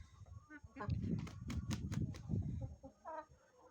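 Chickens cluck in a farmyard alongside an Indian game (Hint) rooster, a run of sharp clucks and squawks close by over a steady background, with a person talking briefly near the end.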